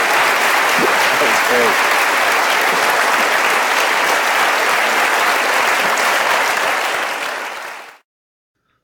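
Loud, sustained audience applause after a Veritas Forum interview with a guest, a dense steady clapping that fills about eight seconds and then cuts off abruptly, with a brief spoken remark near the start.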